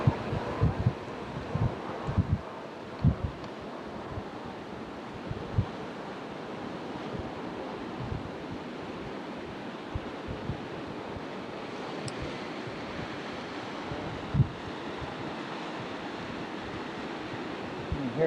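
Ocean surf breaks on a beach where people are surfing, a steady, broad wash of waves with wind buffeting the microphone and occasional louder crashes, and no voices.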